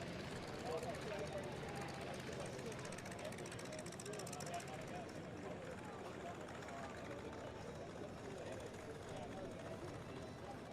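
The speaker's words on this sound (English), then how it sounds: "Coming overhead from right here at Tinker Air Force Base, Team Tinker's E3 Sentry, the AWACS." E-3 Sentry AWACS aircraft from the 552nd Air Control Wing passing overhead at Tinker Air Force Base during an air show, a steady loud broadband engine roar lasting throughout, with crowd and announcer voices mixed in.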